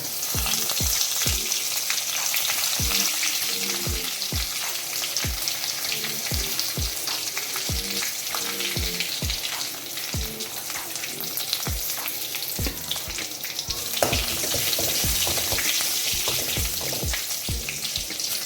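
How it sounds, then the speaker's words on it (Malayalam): Dried red chilies and curry leaves fry in hot oil for a pumpkin erissery, giving a loud, steady sizzle with dense crackling and a regular run of sharp pops and stirring taps throughout, with no talk. "കടുക് പൊട്ടിയതിന് ശേഷം ഉണക്കമുളക് കറിവേപ്പില"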